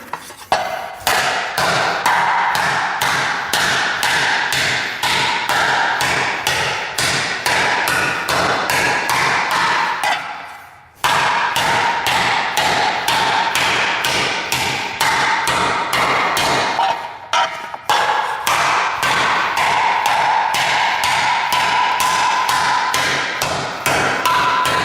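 A hammer whacks sheet metal during car body repair, shaping the panel with rapid, steady, loud blows that carry on almost without pause, stopping only briefly twice.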